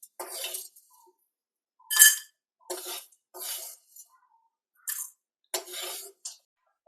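Metal utensils clink and clatter against a pot in a home kitchen as dry-roasted fenugreek and carom seeds are tipped into another vessel after the gas is switched off; a series of short, close knocks and scrapes with quiet gaps between them.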